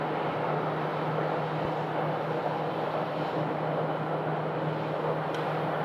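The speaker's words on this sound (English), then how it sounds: "And right there behind the FedEx, we have a UPS also departing." A UPS cargo plane departing Phoenix airport in the early evening, heard as a steady, distant jet roar with a constant low drone, unbroken throughout.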